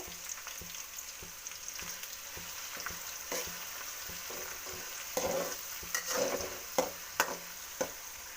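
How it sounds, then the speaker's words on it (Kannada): Onion frying in a pan for puliyogare, a soft, steady sizzle with a row of clacking stirring strokes that grow more frequent in the second half. "ಈರುಳ್ಳಿ ಚೆನ್ನಾಗಿ ಫ್ರೈ ಆಗಬೇಕು."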